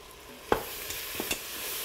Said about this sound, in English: Stirring this in.